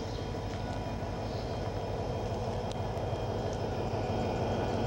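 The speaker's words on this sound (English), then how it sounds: "You hear the train sneeze?" A CSX freight train in Pulaski, New York gives off a loud, steady broad rush of air and rumble that holds unbroken throughout, close by, with no talking.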